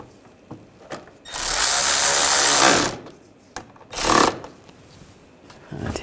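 Power tool snugging down bolts on a 2009-2010 BMW 535i xDrive upper grille, two whirring bursts, a longer one lasting over a second followed by a shorter one, close up between quiet handling noises, no speech.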